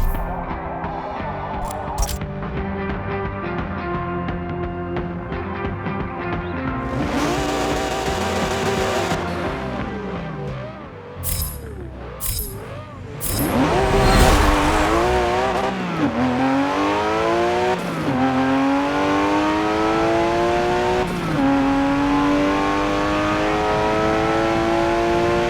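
A 1987 Porsche 959 drag races in Forza Motorsport 7, revving loudly at the line, then launching with a brief tire chirp and climbing through a series of sharp upshifts, the engine note rising steadily after each shift.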